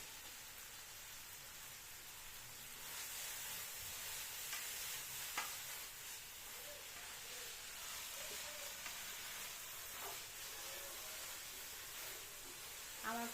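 Noodles frying in a multi electric cooker, giving a soft, steady sizzle with occasional stirring scrapes and clicks, quiet and close with no talking.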